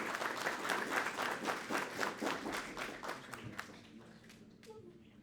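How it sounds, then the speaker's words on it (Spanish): Applause from a seminar audience greeting a doctor about to speak at an international law seminar, a dense patter of clapping that is steady and fairly loud, then thins out and fades over the final second or so. "nuevamente un fuerte aplauso para la doctora"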